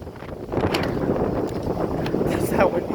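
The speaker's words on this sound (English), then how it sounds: "That's how windy it is" Wind gusts roar and buffet a microphone outdoors in a steady low rumble, with faint rustling mixed in and no clear speech.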